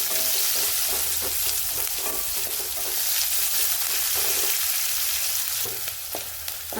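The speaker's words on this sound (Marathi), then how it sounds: "कांद्याला थोडं आधी परतून घेऊ आपण।" Chopped onion sautéing in hot oil with crackled cumin, mustard seeds and curry leaves for upma, a steady close sizzle and fry with occasional stirring scrapes throughout, no talking.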